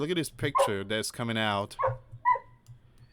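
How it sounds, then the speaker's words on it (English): A pit bull in the background yips, whimpers and gives short barks between bursts of a man's nearby speech, the dog sounds thin and intermittent under the talking. "If you hear my dog in the background, he's just... he just want to play with my pit bull."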